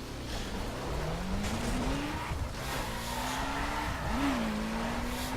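Subaru BRZ drifting in the racing game The Crew during a summit drift event, a sustained engine drone with rising and falling pitch over continuous tire squeal and skidding noise, loud and close.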